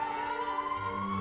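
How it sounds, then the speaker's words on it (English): An ambulance siren wails steadily throughout, loud and continuous, with a second lower tone joining near the end. "This ambulance siren from the beginning of episode 14 is the same siren at the end of episode 1."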